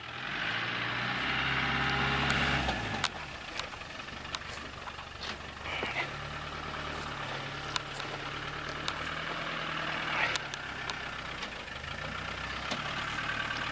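A Land Rover engine idles and rumbles at low revs, steady and fairly close, as the vehicle maneuvers slowly on a skill drive course at a Land Rover club meet, with faint clicks and knocks scattered through.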